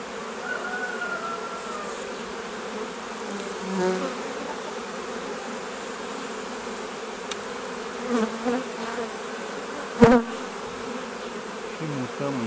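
Honey bees buzz steadily through a Romanian apiary hive while its frames are lifted and shifted, a low continuous drone with a few louder swells and a sharp knock near the end.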